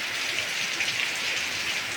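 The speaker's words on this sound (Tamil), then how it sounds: "இதெல்லாம் பாருங்க எப்படி மழை பெய்யுது." Heavy rain pours down in a steady, dense hiss, the drops spattering on surfaces, continuous and fairly close, with no voices.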